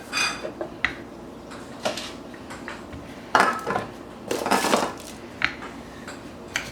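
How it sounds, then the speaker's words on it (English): Wooden rolling pin picked up and flour dusted on during home baking of mini pecan pies, heard as scattered light taps, knocks and soft scrapes against a kitchen counter, close and moderately loud with no talking. "So I'm going to take my rolling pin, dust that with some flour."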